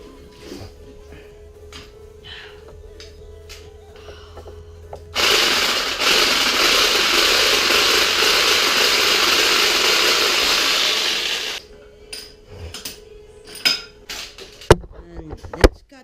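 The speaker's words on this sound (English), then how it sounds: "And let's cut that piece of wood." A power saw cuts through a piece of wood, its loud buzzing grind holding steady for about six seconds mid-clip, framed by quieter handling knocks and clatter before and after.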